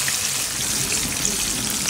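Trout frying in a pan, a dense, continuous hiss and crackle of hot oil that holds steady and loud throughout, with no voices.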